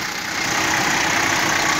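Car engine idling with a breather dripping onto the hot exhaust, a steady, continuous mid-pitched hum and rattle, close and moderately loud, with no one talking.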